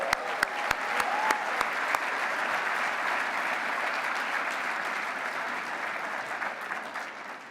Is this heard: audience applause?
yes